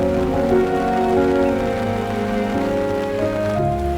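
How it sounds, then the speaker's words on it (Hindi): Rain patters steadily in Shillong, Meghalaya, a dense constant wash of drops with faint tonal hum underneath. "बस बारिश की बूंदों की आवाज़।"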